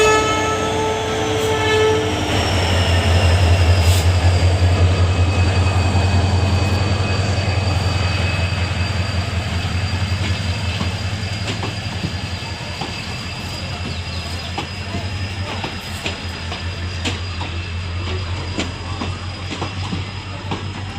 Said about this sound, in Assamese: ট্ৰেইন গৈ আছে এইখন ইণ্টাৰচিটি হয় আৰু এইখন এতিয়া ডাইৰেক্ট গুৱাহাটী যাবগৈ